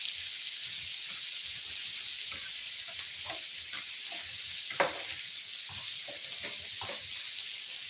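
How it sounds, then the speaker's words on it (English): Shrimp in a hot frying pan sizzle with a dense, steady hiss while they are tossed and stirred, and scattered soft clinks and scrapes break through the close, constant frying. "Just toss my shrimp one more time."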